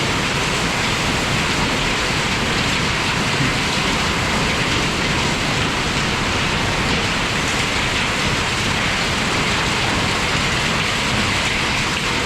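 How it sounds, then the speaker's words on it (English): Hail coming down over a hay field on a farm, a dense, unbroken hiss and clatter that stays loud and even from start to finish, without speech. "Look at the hail."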